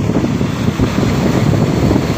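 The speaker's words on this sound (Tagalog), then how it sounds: "magpa-micro jig tayo kasi malakas yung hangin." Strong wind buffets the microphone while fishing on Manila Bay, a loud steady roar and rumble with no voices.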